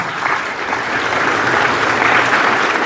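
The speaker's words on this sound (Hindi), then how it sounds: "जोरदार तालियां।" Loud, sustained applause from a school audience honouring a guest at a ceremony in Lunkaransar, Bikaner, a dense wash of clapping holding steady for the whole stretch.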